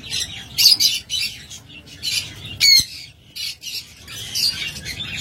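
A pair of cobalt opaline birds, offered for sale, give repeated harsh squawks and short chirps in bursts, close and fairly loud, with brief quiet gaps between calls.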